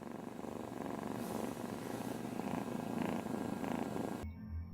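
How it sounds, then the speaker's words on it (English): A house cat's purr, slowed down into a deep, ominous rumble for a Star Wars Force sound effect, drones steadily and loudly for about four seconds before cutting off abruptly. "the rumble is really the purr of a cat that was slowed down and edited into the ominous sound"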